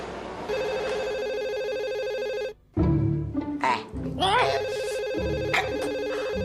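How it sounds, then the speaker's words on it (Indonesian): Telephone bell ringing steadily in a home during an Indonesian TV drama scene, a repeated trilling ring that stops briefly and resumes while people talk over it. "Ada telepon noh."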